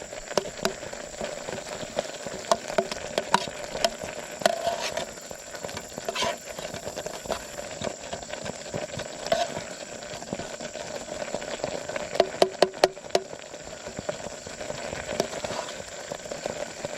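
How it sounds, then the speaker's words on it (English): Rice pudding bubbles in a Chinese PLA mess kit over a trioxin-fuelled trench stove while a spoon stirs it. A steady hiss and simmer run underneath, with scattered sharp clicks and scrapes that cluster in a quick burst near the end. "Let's give it a little stir here."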